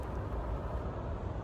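A Toyota RAV4 hybrid's 4-cylinder engine idling with the hood closed, a steady, muffled low hum close by with no voices.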